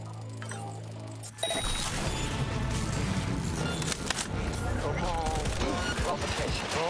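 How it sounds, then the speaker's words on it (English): Rapid bursts of gunfire from the Skippy smart gun in Cyberpunk 2077 fill the scene loudly and continuously after a quieter start, dense overlapping shots and impacts in a chaotic firefight. "Come on, Skippy, just keep shooting him."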